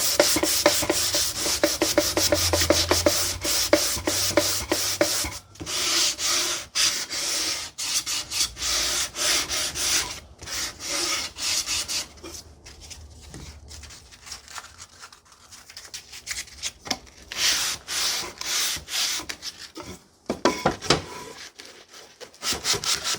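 Hand sanding of a wooden jewelry box with 180 grit paper on a felt block: close, rhythmic back-and-forth rasping strokes in bursts, with brief pauses between passes.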